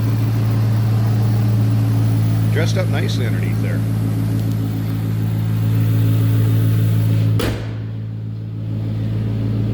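A supercharged 2008 Ford Mustang Roush 427R engine idles with a steady, smooth low rumble, close by and constant, while someone talks over it; a brief sharp knock comes near the end as the sound drops.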